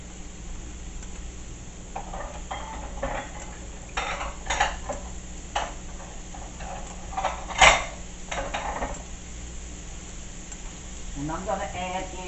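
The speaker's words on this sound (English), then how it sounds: "we're going to get good and hot, and then we're going to add in the onion and the" Onion and garlic going into a hot pan: scattered clanks and scrapes of utensils against cookware over a faint sizzle, with a voice briefly speaking near the end.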